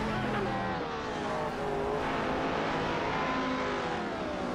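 Race cars in an AI racing video game, with several engines droning and whining together in a dense continuous roar, pitch rising and falling as cars accelerate, no one talking.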